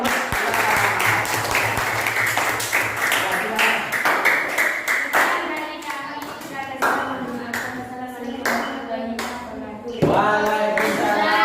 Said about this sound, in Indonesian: tepuk tangan dulu bagi kelompok 3